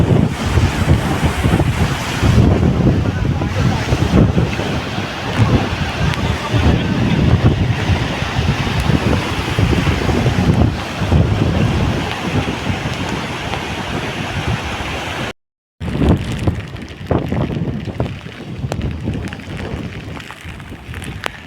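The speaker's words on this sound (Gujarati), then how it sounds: "હાઈવે ઉપરથી ફૂલ પાણી જાય છે" Continuous rushing floodwater pouring over a highway near Jamnagar after heavy rain, steady roar heavily buffeted by wind noise on the microphone, loud and close, with a brief dropout near the end.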